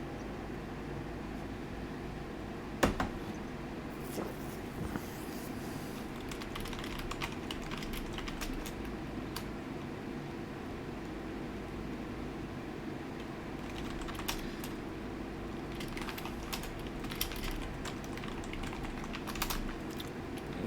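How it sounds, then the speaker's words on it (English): Soft, rapid typing on a computer keyboard carries on throughout, a steady patter of key clicks with occasional louder taps, fairly quiet and close, with faint room noise beneath and no talking. "Yeah, I'm just typing about the results stuff because Lemonelli was typing in there"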